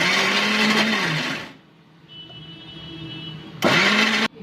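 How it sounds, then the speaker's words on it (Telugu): A kitchen mixer grinder blends cabbage chutney with tamarind, roaring loudly, then cutting off to a quiet pause with a faint whine, before a second short, loud burst that stops abruptly. "ఇప్పుడు దీన్ని మిక్సీ పట్టేసుకుందాం."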